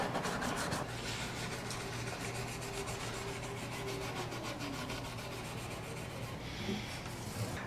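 Quiet, steady rubbing and rasping as tool marks are sanded off guitar frets. The strokes are close and continuous, with no talking.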